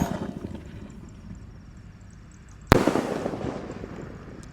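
A Bima Sakti 4 firework launches high in one sudden loud burst about two-thirds of the way through, followed by a crackling, hissing tail. Quieter rustling and crackle from earlier fireworks come before it.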